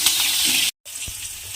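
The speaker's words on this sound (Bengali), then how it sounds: "অল্প একটু হলুদ দেব, দিয়ে কুমড়োটাকে একটু লাল করে ভেজে নিতে হবে।" Pumpkin pieces with salt and turmeric frying in a pan, giving a steady close hiss and sizzle, broken by a short silent gap and followed by a soft clunk.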